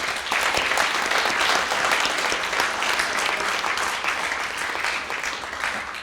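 A conference audience applauds the organisers with dense, sustained clapping that fills the room at a steady level for several seconds.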